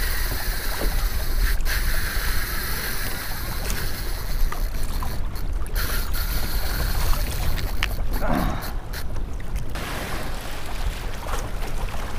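Choppy water slaps and churns around a boat out tarpon fishing, a steady broadband wash with wind noise and no pauses across the whole stretch.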